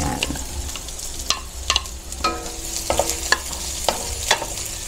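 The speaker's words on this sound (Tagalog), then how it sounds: "lagay na ako ng mantika po dyan sa ating kawali. Pagsabay na po natin yung ating sibuyas at bawang." Onion and garlic sauté in oil in a frying pan, a steady sizzle broken by repeated scraping stirs of a utensil against the pan, close and clear, with no talking.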